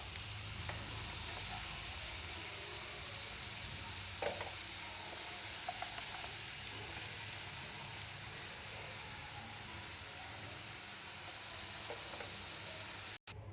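Vegetables frying in oil in a kadai, a steady close sizzle holding without a break, with a few faint clinks of stirring scattered through it.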